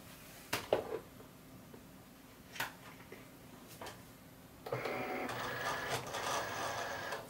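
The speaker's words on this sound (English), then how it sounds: "And I have the Cricut Explore 2. So we're just going to load it." Cricut Explore 2 cutting machine loading a cutting mat: a few soft clicks and knocks, then a steady quiet motorized whirring and feeding rattle over the final seconds, close but faint, with no talk.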